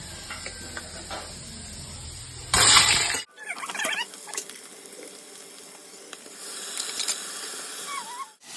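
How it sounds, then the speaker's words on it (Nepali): Onion hits a pan of fried chicken with a sudden loud hiss that settles into a softer, uneven sizzle with faint crackles. "अब म यो अनियन हाल्छु यहाँ"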